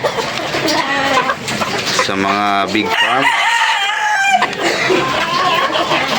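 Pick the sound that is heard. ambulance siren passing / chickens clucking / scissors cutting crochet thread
chickens clucking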